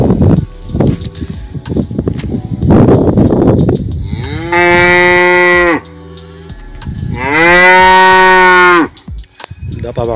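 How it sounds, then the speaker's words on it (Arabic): Cattle on a farm in the Egyptian countryside give two long, loud drawn-out moos, following some nearby rustling and shuffling noise. "طبعا صوت البقر اللي حضراتكم سامعينه ده"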